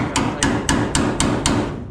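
Six sharp metallic hammer blows land roughly every quarter second as a hammer drives a chisel against a tack-welded cab corner on a vehicle body during rocker and floor pan repair, ringing close and loud over a steady low shop hum.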